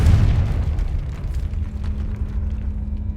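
A loud, booming blast from the Confringo spell in a Harry Potter video game, a heavy explosion up front that fades into a low rumbling tail.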